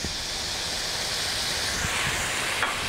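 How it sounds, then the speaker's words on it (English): A hot pan deglazed with fish stock gives a steady, loud, broad hissing sizzle that holds without a break. "I'm going to deglaze my pan with a bit of fish stock."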